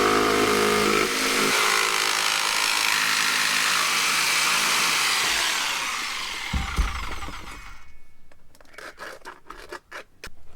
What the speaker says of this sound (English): we might be able to get a little bit closer with the jigsaw